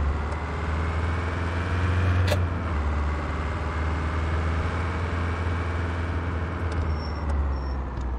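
A Ford Transit Connect van engine in a truck and logistics simulator game holds a steady, low, loud drone at constant revs, with a brief click partway through and no speech.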